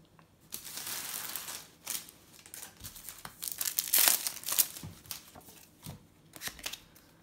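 Crinkly foil packets of 2019/2020 Match Attax Champions and Europa League football cards being torn open and handled, with steady close rustling and crumpling that comes in bursts and has brief pauses, and no talk.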